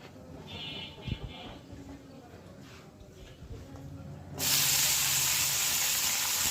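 Green chilies dropped into a little hot oil in a wok while making a shrimp bhorta: a sudden loud, steady hiss of sizzling bursts in near the end, after quieter kitchen rustling and a voice.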